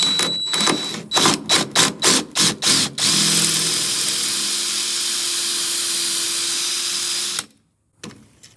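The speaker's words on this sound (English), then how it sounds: "So we're just going to try to drill it out." A stripped bolt on a rusted 1974 Ford F250 Custom with a 390 V8 is drilled out: a power drill fires in about ten short pulsing bursts, then runs in one sustained loud whine before stopping abruptly.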